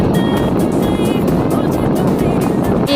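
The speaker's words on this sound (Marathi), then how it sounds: "गाडी अशी मस्त धावते." A car cruises steadily along an open road on the way to Vazzar Dam, with a loud, continuous engine and tyre roar and wind rush that stays constant throughout.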